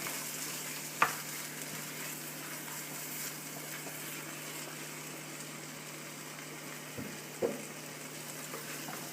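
Heavy cream being stirred into crawfish etouffee in a pot: a low, quiet simmering bubble with soft scraping, plus two brief utensil knocks near the start and end.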